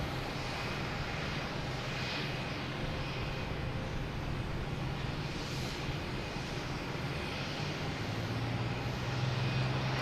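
An airliner begins its takeoff roll at Boston Logan Airport, a distant steady jet engine roar that holds even and slowly builds, heard faintly across open ground with no talking.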